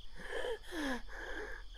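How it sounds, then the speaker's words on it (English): Heavy, ragged panting in three long breaths, each harsh and wheezy with a rasping edge, close and fairly loud with no talk. "I was laying a few inches from her, panting heavily"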